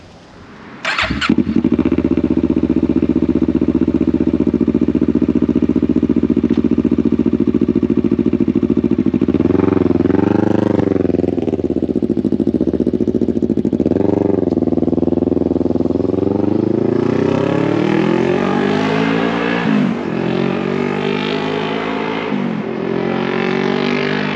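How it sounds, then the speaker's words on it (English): Kawasaki Z650 (2017) motorcycle ridden on the road; loud, steady mid-size engine drone after a brief start, with rising and falling revs as it shifts through gears, no talking. "currently riding Kawasaki's 2017 Z650"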